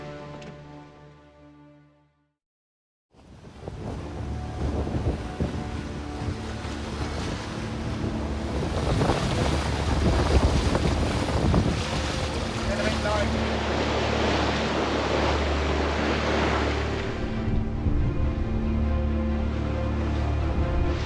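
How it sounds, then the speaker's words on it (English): Strong wind buffets the microphone and big waves rush and break against a sailing boat on a sporty passage to Majorca in the Balearics, roaring steadily and loud after a brief quiet start. "There's some quite big waves and they're right on the quarter."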